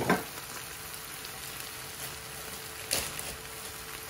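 Green chilies fry in a pan with spinach, a steady close hissing sizzle throughout with a brief louder crackle near the end, no talking.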